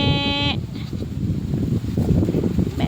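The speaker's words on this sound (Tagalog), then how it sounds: "Ito yung kambing ni tatay." A goat on a family farm gives one clear, close bleat at the start, followed by rustling outdoor noise with people talking nearby.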